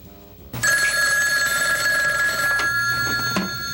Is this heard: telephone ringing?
yes